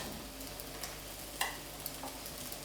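Faint, steady sizzle of a flaky sugar pancake pan-frying, with a few soft clicks and taps over the frying hiss and no voices.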